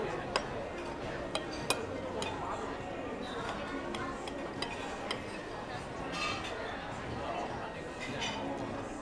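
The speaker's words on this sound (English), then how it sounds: "Yep, I cut a piece out of the waffle." Faint metal cutlery clinks in sharp, scattered taps against a plate while a waffle is cut at a breakfast buffet in a Las Vegas casino hotel, set against a steady murmur of dining-room chatter.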